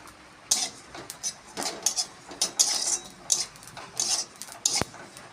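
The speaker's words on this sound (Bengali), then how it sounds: "জিরেটাও টেলে নেব খালি কড়াইতে।" Cumin seeds dry-roasting in an empty wok, with dry scraping and clinking of a spatula against the metal in irregular bursts, fairly close, a sharp metallic tap near the end; no talking.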